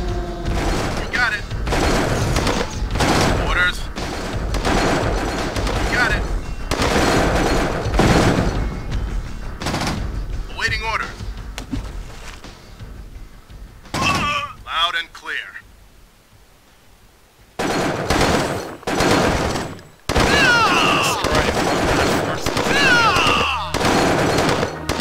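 Rapid gunfire and heavy explosions from the C&C Tiberian Sun real-time strategy battle come in dense, repeated bursts, loud and close. Game voice lines talk over the combat, with a short quieter lull partway through.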